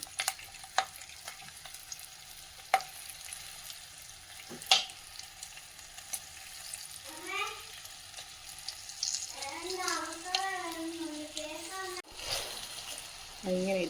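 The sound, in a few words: stuffed bajji chillies frying in oil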